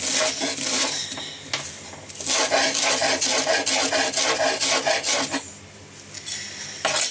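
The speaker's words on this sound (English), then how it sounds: "You just really want to try and get it finely chopped." A knife chops wild garlic on a board in quick, close, repeated strokes, with rasping scrapes as the pieces are gathered, over several seconds without talk.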